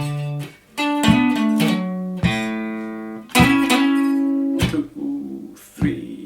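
Electric guitar plays step 6 of a song intro: a run of ringing plucked notes and chord stabs, some held for a full beat, loud and close with no talking.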